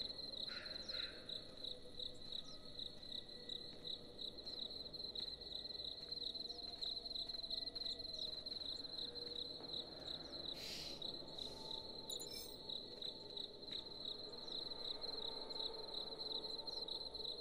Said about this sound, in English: They put bloody crickets on here.